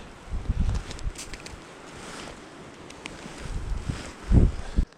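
Strong wind gusting on a river during a grayling fishing trip in the Komi Republic, buffeting the microphone in uneven rumbling bursts, with a heavy gust near the end.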